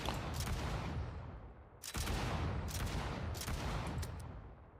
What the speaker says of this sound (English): Let's wait for the grenade to explode.